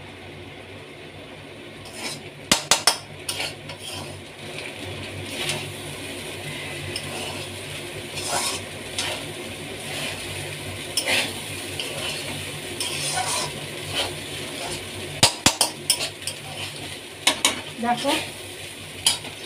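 Rice for fried rice stir-fries in a pan with a continuous low sizzle, broken by repeated scraping and clattering strokes of a spatula. A voice speaks briefly.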